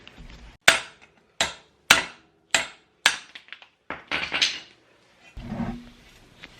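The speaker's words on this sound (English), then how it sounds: "take a chisel and a hammer, and we're just going to hit it" Sharp metallic hammer blows on a chisel against a Suzuki King Quad 300 rear wheel bearing ring out one at a time, about seven strikes at a steady pace, close by, ending with a duller scraping knock.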